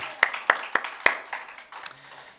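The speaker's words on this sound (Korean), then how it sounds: "우리 찬양받기에 합당하신 하나님께 영광의 박수를 올립니다" Church congregation clapping in praise during a worship class: a handful of sharp, distinct claps in a loose rhythm, fairly close and clear, trailing off into softer scattered claps.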